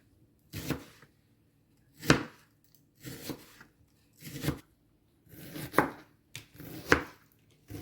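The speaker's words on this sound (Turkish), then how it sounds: "Küçük küçük soğanımızı doğruyoruz." Onions being chopped small with a knife on a board for Kayseri mantı filling, giving about seven separate crisp chopping bursts in an uneven rhythm, close and clear with no talking.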